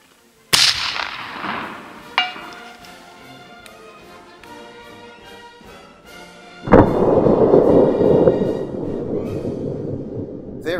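A Snider Mk II** short rifle firing black powder at long range gives a sharp, loud report with a ringing tail, followed several seconds later by a second heavy impact-like boom with rumbling decay.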